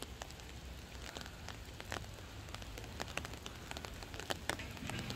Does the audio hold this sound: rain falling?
yes